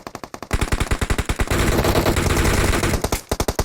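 Automatic gunfire from a machine gun in the mobile video game PUBG Mobile: rapid, loud, evenly spaced shots that merge into a continuous stream of fire, then break back into distinct quick rounds.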